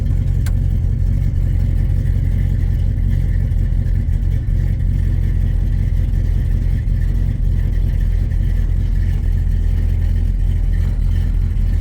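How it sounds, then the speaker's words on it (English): A Plymouth Cuda fitted with an LS engine idles at an off, unsettled idle speed, giving a steady, loud, close-up mechanical rumble with light clatter that holds throughout without a break. "Yeah, see, it's not idling where it should be."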